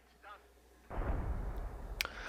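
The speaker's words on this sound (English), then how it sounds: "first barrage is coming in right on top of that mortar pit" Artillery barrage landing on a mortar pit in the strategy game Company of Heroes 2: a sudden heavy rumbling impact bursts in and keeps rolling, with a sharp crack near the end, loud and dense against faint background.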